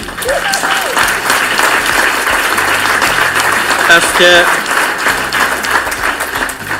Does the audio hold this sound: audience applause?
yes